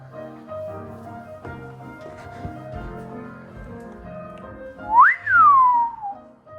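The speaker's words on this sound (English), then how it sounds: "Oh, we got a self-playing piano up here." A self-playing piano plays steadily in the background of a model home, with a loud, sliding whistle cutting in near the end.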